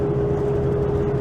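A car rolls slowly along a gravel road through hilly country, making a steady low engine drone and road rumble throughout, with no voices.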